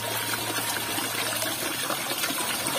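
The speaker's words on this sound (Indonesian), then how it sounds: "Ini 24 jam non-stop ya, air mengalir seperti ini" Mountain water pours nonstop into a village bathroom, a steady hissing splash with a faint low hum underneath, constant throughout.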